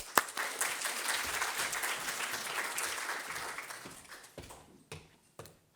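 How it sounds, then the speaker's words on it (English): Audience applause for a presenter at a university sustainability showcase, steady clapping from a crowd that thins out and fades into a few scattered last claps. "So a big round of applause."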